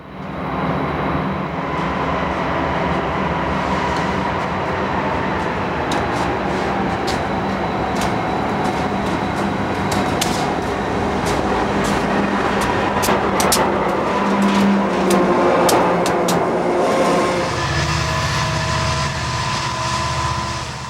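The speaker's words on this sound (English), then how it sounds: "This UP westbound has just emerged from the west portal of Tunnel 32." A Union Pacific westbound freight rolls out of the west portal of Tunnel 32 in California's Feather River Canyon, a loud, continuous rumble of engines and wheels close by, with sharp metallic squeals and clanks, dropping to a lower drone near the end.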